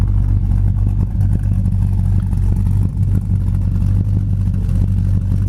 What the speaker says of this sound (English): It's got a nice sounding dual exhaust